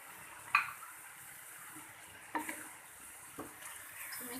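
A utensil stirs chicken seasoned with salt, black pepper and crushed chili in a pan over medium heat, giving a few scraping knocks against the pan above a steady low sizzle, close and moderately quiet, with no voices.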